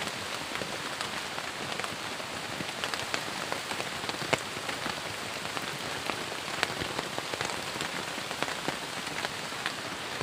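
Rain drips and patters through the holes of a worn hut roof, a soft, steady close-up spatter of many drops with scattered louder plinks, no one speaking.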